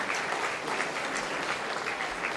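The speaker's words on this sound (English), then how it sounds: "Let's give a round of applause." Audience members at a September 11 remembrance presentation break into steady, even applause, a continuous crowd of clapping hands heard from a moderate distance.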